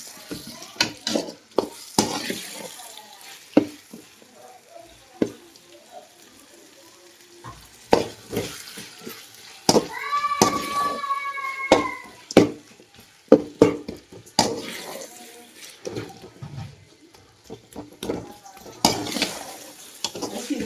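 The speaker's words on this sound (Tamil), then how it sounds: "அங்கேயே தக்காளி போட்டு வதக்கிட்டு இருக்கோம்" Tomatoes being sautéed with onion, ginger, garlic and green chilli in a pan for home-style biryani, with a soft sizzle under repeated clanks and scrapes of a spoon against the metal, plus brief faint voices.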